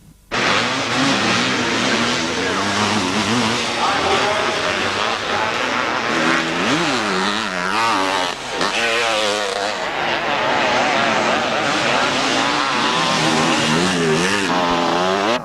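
Scramble motorcycles, a Montesa among them, race at a classic scramble meeting at Hawkstone, their engines roaring loud and continuous with rising and falling revs as the bikes pass and accelerate, a steady wall of mixed engine noise throughout.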